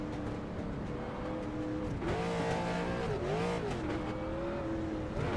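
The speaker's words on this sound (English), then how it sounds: "As soon as I turned to him, he started revving it up." Race car engine in the iRacing sim revving hard on the starting grid, a loud sustained roar with pitch rising and falling through several revs over steady engine drone.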